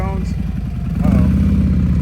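A motorcycle engine runs at slow speed during an advanced slow-speed riding practice through cones, a steady low rumble that swells slightly as the throttle is loaded, with people talking over it.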